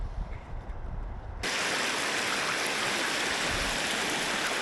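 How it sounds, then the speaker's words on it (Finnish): Shallow small river rapids rush loudly as a boat heads upstream, a steady broadband roar of flowing water that jumps in suddenly after a quieter, muffled opening. "Tässä sitä mennään tätä pikkukoskea ylös."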